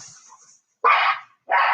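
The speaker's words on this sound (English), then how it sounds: "As the dogs go crazy." Two loud, close dog barks in quick succession after a brief quiet stretch, with a faint whine at the start.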